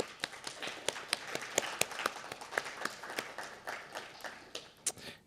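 Audience applause at a poetry reading event: a moderate crowd claps steadily, individual claps standing out as sharp ticks, fairly quiet and distant.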